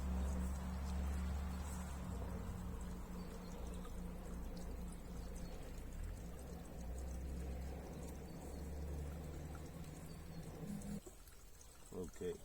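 Water runs continuously in a garden fountain, a steady splashing pour with a low rumble beneath, while someone talks over it; the flow thins out near the end.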